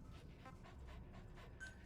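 The dog companion D-Dog pants in the Metal Gear Solid V video game, a quiet, rhythmic series of short breaths against a low background hum.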